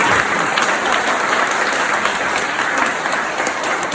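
Sustained applause from a seminar audience: a full, steady wash of many hands clapping at fairly close range, continuous throughout with no talking over it.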